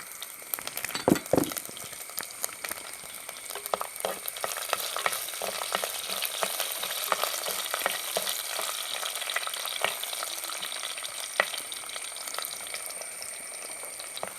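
Garlic, a large whole head, frying in sesame oil for mango pickle, with a continuous bright sizzle and frequent scraping stirs and light clinks, close and moderately loud with no talking.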